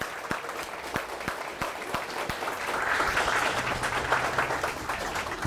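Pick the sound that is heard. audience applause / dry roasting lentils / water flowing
audience applause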